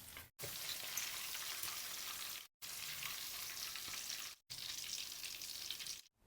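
Garlic and bird's eye chilies fry with pork ribs in hot oil, a dense bright crackling sizzle heard close up in three long stretches separated by brief silent cuts.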